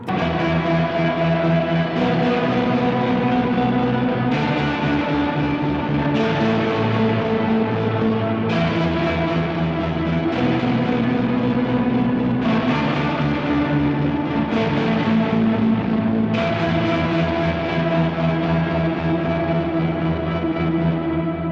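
Sustained guitar chords drenched in reverb, run through a reversed tremolo on a GFI System Synesthesia Dual Modulator, wash together, each change swelling slowly with a pulsing, echoing shimmer, played alone without talk.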